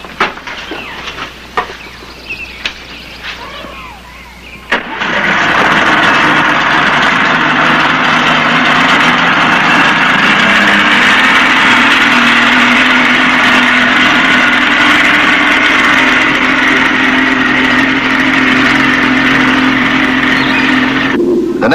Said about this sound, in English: Now you start your engine.